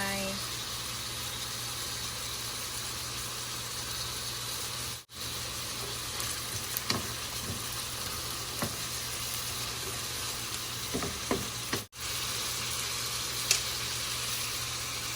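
Pork stir-fries in a pan with a steady, quiet sizzle, broken by a few scraping stirs and light clicks of the utensil against the pan.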